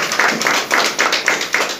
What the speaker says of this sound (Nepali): एकपल्ट उहाँलाई पनि जोडदार ताली